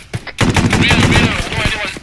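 GPMG machine gun in the Arma 3 combat game rattles off a rapid sustained burst of close, loud shots, with a voice briefly audible underneath.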